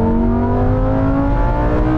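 A Lamborghini Huracan Sterrato and a Porsche 911 Dakar accelerate hard in a rolling race, heard as a steady, loud engine drone with rising pitch from inside the cabin, without talk.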